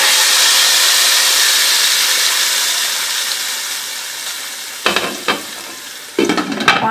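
Hot spiced tempering poured over cooked black-eyed beans gives a loud, bright sizzle that slowly fades, followed near the end by a few clattering knocks of a lid or spoon.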